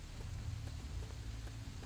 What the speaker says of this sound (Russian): Кто же знал, что радиационный дождь начнется?